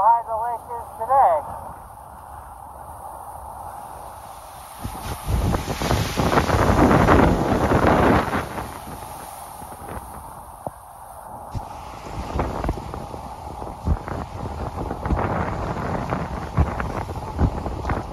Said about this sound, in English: This is Lake Chapala on a windy day.